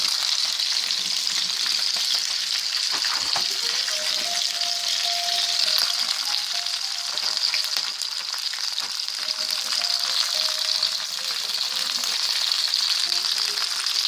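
Peppers and sausage frying in a pan, a steady loud hiss of sizzling oil with occasional stirring clatter, close up and continuous with no talking.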